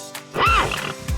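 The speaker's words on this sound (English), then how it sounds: "H, horse." A horse gives one short, rising-and-falling whinny, close and fairly quiet, lasting under a second with no talking.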